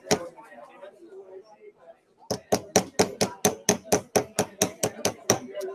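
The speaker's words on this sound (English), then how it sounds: "I'm hammering that down to my bench block" A voice speaks briefly, then a quick run of around sixteen sharp hammer taps follows, flattening metal on a bench block in a fast, even rhythm, close and crisp.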